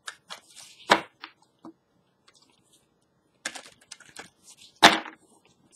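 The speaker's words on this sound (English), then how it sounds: "So let me shuffle these up really well." A deck of cards being shuffled for a reading, heard as crisp riffling bursts and soft flicks in short clusters separated by near silence, close and fairly loud.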